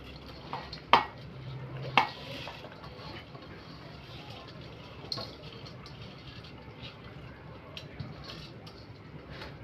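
Soaked rice is stirred into boiling water in a pot in a small room, with a couple of sharp metal clanks from a spoon against the pot over low bubbling and faint stirring.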